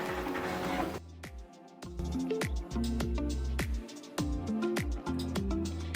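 A computerized quilting machine stitching a quilt: close, steady mechanical whirring with a quick regular run of clicking stitch pulses, briefly pausing and restarting, with no talk.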